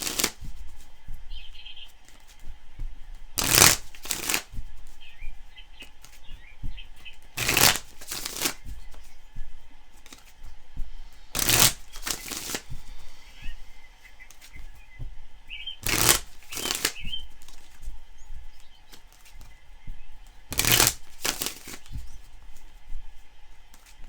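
A deck of tarot cards is riffled and bridged in sharp bursts every few seconds, crisp close-up shuffles separated by quiet handling, with no one speaking.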